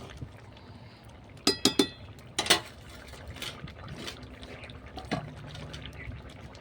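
Rohu fish pieces slipped into a pot of thin simmering broth with potatoes, tomatoes and vegetable stalks, giving a few sharp splashes and clinks followed by soft bubbling, close and with no talk.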